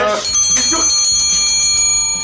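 A bright bell chime rings out with ringing metallic overtones, a short loud effect sounding alone for about two seconds.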